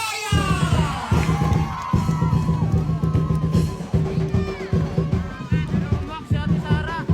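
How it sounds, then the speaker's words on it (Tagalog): A large outdoor crowd cheers and shouts for mayoral candidate Sara Discaya in Pinagbuhatan, Pasig, loud and continuous, with a rhythmic chant or drumbeat pulsing beneath the voices. "isang malakas na palakpakan na may kasamang hiyawan"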